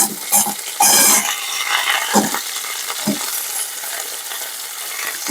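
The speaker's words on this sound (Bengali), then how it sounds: "আগে ফুলকপিগুলো ভেজে নিচ্ছি" Cauliflower sizzles and fries in a pan, with scraping stirs and clattering of utensils against the pan at a few moments.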